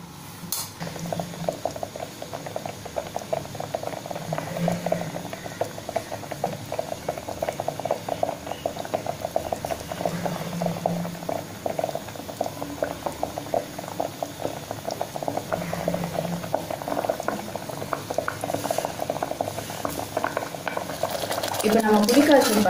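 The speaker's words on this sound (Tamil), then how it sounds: "இது நல்லா கொதிக்க ஆரம்பிச்சிருச்சு." Steady bubbling of thick tamarind paste boiling in a pan, continuous and close, with occasional light stirring clinks.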